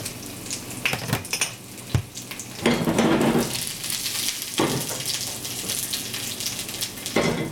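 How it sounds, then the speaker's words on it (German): Bacon sizzles and crackles in a dry pan without added fat as it crisps, with occasional scraping and clinks of a utensil stirring it close by. "Und dann ohne Fett in der Pfanne richtig knusprig ausbraten."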